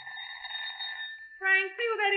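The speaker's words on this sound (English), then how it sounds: "I'd hardly settled down with my paper when the door buzzer rang" A door buzzer sounds as a radio drama effect, a steady electric tone followed by two short, louder buzzes in quick succession, alone without voices.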